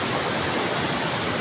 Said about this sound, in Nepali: अहिले पनि पानी आइरहेको छ हल्का फुल्का होइन